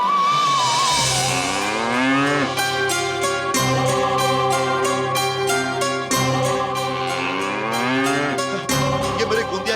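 A bull named Gondiya lows with a long, rising moo, followed by a sustained bellowing call with a second swell, loud and close over a steady background drone, with no talk.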